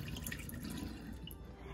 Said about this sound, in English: After your seeds have soaked for the required time, just drain out all of the water.